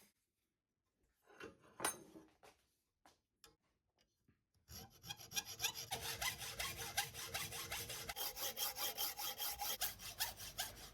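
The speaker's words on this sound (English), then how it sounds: "Then go over to my vise and trim it down to length using my hacksaw." A hacksaw cuts a metal pivot shaft for a Kawasaki S1 550 four-cylinder frame repair, held in a vise. A few faint clicks come first, then a close, steady run of rhythmic rasping back-and-forth strokes.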